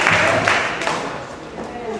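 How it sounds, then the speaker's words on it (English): A church congregation at a sermon breaks into a brief burst of applause, a dense wash of clapping that fades slightly over two seconds. "Give a clap of applause"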